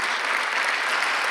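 A church congregation applauds during a Sunday worship service, a dense, steady wash of many hands clapping close and loud, continuing evenly throughout before stopping abruptly at the end.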